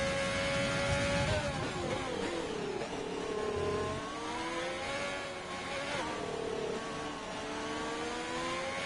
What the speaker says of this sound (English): We do have a Ferrari following closely behind, as well as a Red Bull.